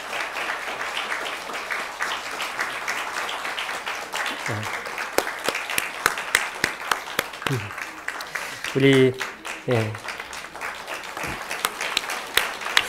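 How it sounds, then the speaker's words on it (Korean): A church congregation claps during a Christmas service to honor an elderly member. Scattered bursts of applause rise and fall alongside someone speaking Korean. "우리 박수 한번 지금 이렇게 붙이게."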